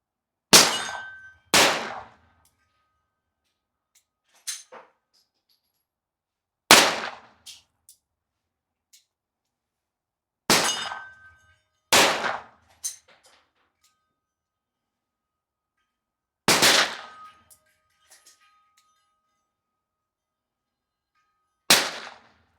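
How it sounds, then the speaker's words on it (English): Revolver shots fired single action at a target ring out loud and sharp, roughly seven separate blasts spaced several seconds apart with short echoes and small metallic clicks between them. "I'm going to fire this one on single action, give me a better chance of hitting the target."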